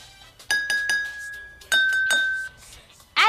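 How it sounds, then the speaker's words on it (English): A spoon taps water-filled drinking glasses, giving three quick bright rings, a pause, then two more higher and lower tones that sustain and fade, ending with a brief clink; close and clear with no talking. "Use a spoon to tap each glass and compare the pitches."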